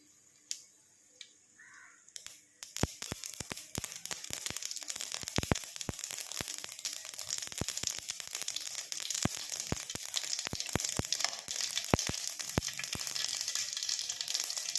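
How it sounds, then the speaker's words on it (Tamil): Mustard seeds splutter in hot oil in a kadai for tomato rasam: after a quiet start, dense irregular pops and crackles erupt over a sizzling hiss and keep going, close and lively, with no talking. "கடுகு போட்டுக்கோங்க. கடுகு பொரியட்டும்."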